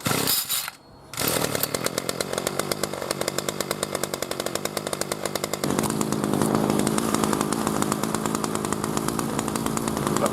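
A B&Q 25cc petrol strimmer buzzes loud and close after a brief lull, its high two-stroke whine holding steady and then shifting to a heavier, rougher tone as it cuts through grass.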